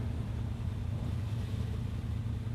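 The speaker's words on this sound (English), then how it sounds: "a first taste of what this carbureted Ferrari V12 engine sounds like when opened up" A deep, steady carbureted Ferrari 330 GT 2+2 V12 engine roar rumbles continuously at high volume under acceleration, dominated by low droning tones with rushing wind noise over it.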